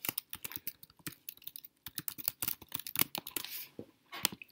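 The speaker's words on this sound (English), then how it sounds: "So you can type." Fingers typing on a computer keyboard in a word processor, a quick irregular run of close, crisp key clicks with short pauses, fairly quiet.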